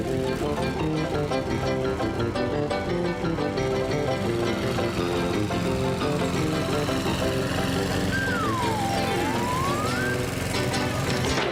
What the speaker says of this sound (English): But there was no stopping the mower.